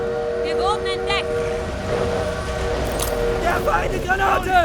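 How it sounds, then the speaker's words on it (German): A train pulls away in Call of Duty WW2 amid a steady low rumble and sustained tonal whine, with repeated metallic chirps and clanks over it while voices shout. "Der Zug fährt ab!"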